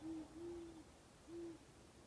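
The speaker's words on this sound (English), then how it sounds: "birds waking up all around." At first light, birds call in the stillness, heard as a series of soft, hollow owl-like hoots. Three steady tones come at uneven intervals over a constant bed of faint background hiss.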